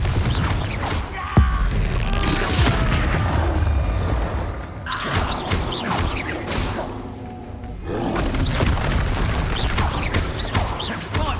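Blasting Confringo spells in the Hogwarts Legacy video game burst repeatedly, a loud, dense run of roaring explosions and crashing, shattering impacts amid continuous combat effects.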